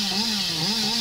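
Chainsaw revving in the video game Dead by Daylight, a loud continuous buzzing roar held for about a second with no break.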